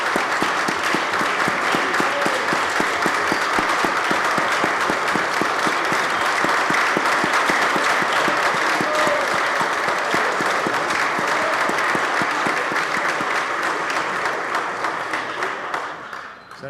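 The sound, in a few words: applause for a former senator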